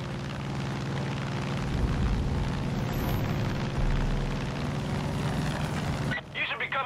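Steady droning roar of an aircraft in Far Cry 5, a continuous engine rumble that holds throughout before cutting off abruptly near the end.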